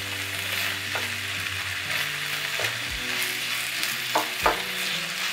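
Crumbled tofu for a scramble sizzles in a frying pan while a utensil chops and stirs it, producing a steady hiss with a few sharp scraping knocks scattered through.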